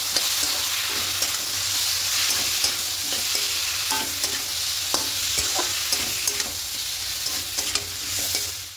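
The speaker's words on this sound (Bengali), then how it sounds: "দিয়ে খুব ভালো করে একটু কষিয়ে নেব" Spice paste loosened with ginger-garlic water fries and is stirred in a pan for a spinach and prawn dish, a constant loud sizzle with repeated spoon scrapes and clinks.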